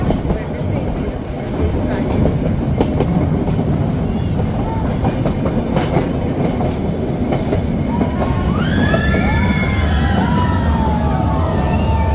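Nilgiri toy train from Coonoor running toward Ooty station, a loud, continuous wheel clatter and carriage rumble with high squealing tones rising near the end, voices faint in the mix.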